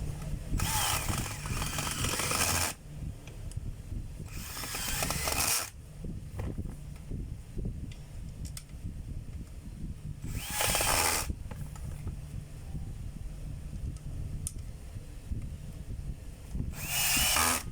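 A power screwdriver drives in the four gearbox screws on a DeWalt DWP849X polisher, sounding in several loud, separate whirring bursts of a second or two each, with quieter clicking and handling noise in between.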